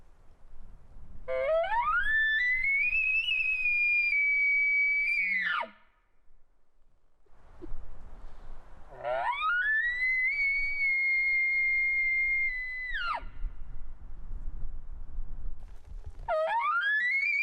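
An elk bull locator call is imitated with a call, producing rising, sustained high whistling bugles repeated three times with short pauses and faint low grunting between them, loud and close.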